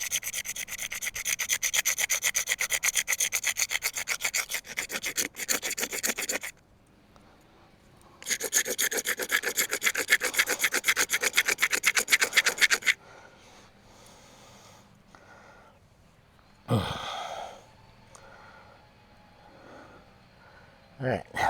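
A blade scrapes wood into fine shavings for fire tinder, rapid rhythmic rasping strokes in two long close bursts separated by a pause, then quieter handling with a brief breath or snort.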